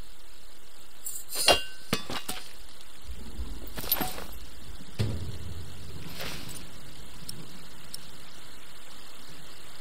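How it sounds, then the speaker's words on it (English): An old hammer strikes chains in The Pillars of the Earth video game, giving a few sharp metallic clinks spaced several seconds apart over a quiet background. "Old hammer on the chains."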